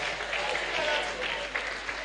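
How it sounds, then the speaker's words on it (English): A media conference audience claps for a prize winner, the applause dense but fairly soft and even, with a voice or crowd murmur mixed faintly in. "Clap for her."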